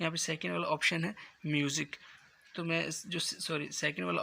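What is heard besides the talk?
No distinct noise like a dog, phone or traffic.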